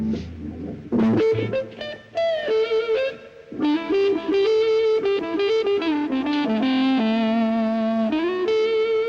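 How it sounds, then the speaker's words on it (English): A distorted electric guitar in a "woman tone", bass rolled off, with a muffled, nasal, whining sound plays a bluesy lead line with bends and reverb, loud and up close. "a kind of whining noise usually described as woman tone"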